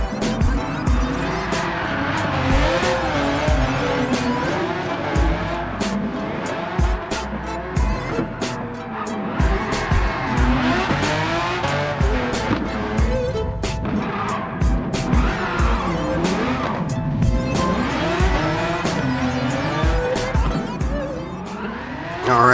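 A 1991 Ferrari Testarossa drift build in Gran Turismo 7 revs hard and slides, engine note rising and falling under long, repeated tire squeals and skids, loud and continuous throughout.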